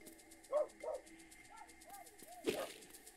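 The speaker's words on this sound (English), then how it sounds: "my dogs are barking like crazy" Dogs barking in a room during a live video game stream, a few sharp yips and barks at moderate distance with short pauses between them, fairly faint overall.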